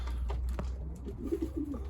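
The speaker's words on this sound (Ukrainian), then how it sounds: "Прилетів крапчатий голубок" A speckled pigeon coos softly after landing, a few low, rolling coos near the end, with light flutter and rustle before them and no talking.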